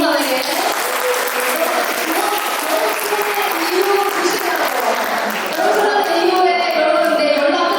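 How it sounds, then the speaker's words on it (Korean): A large audience at a church summer retreat gathering claps in loud, sustained applause for the event staff, with cheering voices mixed in throughout. "여러분 박수 우리 임원단에게"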